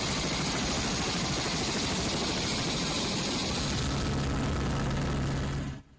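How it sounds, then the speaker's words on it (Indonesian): A BNPB helicopter flies over a flood-prone zone in South Sulawesi, its loud, steady engine and rotor roar filling the air continuously before cutting off abruptly at the end. "Gubernur Sulawesi Selatan, Nurdin Abdullah melakukan pemantauan udara menggunakan helikopter milik BNPB"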